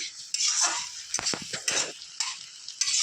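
Hot water poured into a simmering potato and egg curry in a pan, giving a few uneven bursts of sizzling and splashing over about three seconds, close and fairly loud, with no talking.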